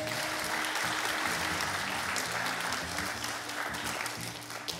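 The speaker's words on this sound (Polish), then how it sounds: "Dla nich wielkie brawa!" Applause from the audience at an accordion competition in Lubań fills the hall, a continuous, even patter of many hands that fades slightly toward the end.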